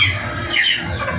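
An angry mother hen squawks harshly near a brooder with newly hatched chicks, giving a loud, continuous, raspy outburst up close.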